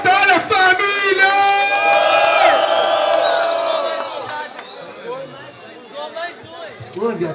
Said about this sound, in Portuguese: Barulho pra essa batalha,